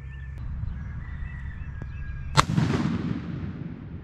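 A single loud shotgun blast fired at a 50-yard target outdoors, a sharp crack with a long rolling echo that fades over a second or two, preceded by faint background hum.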